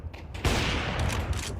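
Rapid automatic gunfire bursts in a Counter-Strike match at a PGL Astana 2025 esports broadcast, dense and punchy, with a rattling volley sustained for about a second after a brief lead-in.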